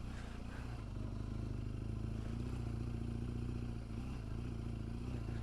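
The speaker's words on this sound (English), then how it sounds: "we can say we're doing a bit of green laning on the GS" A BMW GS 1200 motorcycle riding off-road on a green lane: a steady low engine chug with light clatter and rattle, continuous and fairly quiet.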